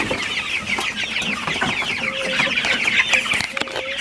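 Chickens inside a chicken house cluck constantly and densely, with many overlapping calls close by and a few higher, drawn-out cries mixed in.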